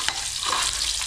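Garlic and onion sautéing in a hot pan for a Filipino bagoong and ampalaya dish, with a steady close sizzle and a light stir or scrape partway through, and no voices.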